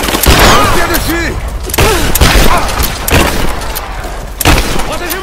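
Gunfire in Rise of the Tomb Raider, heard as repeated loud bursts and booms through a running firefight, with voices talking over the shots.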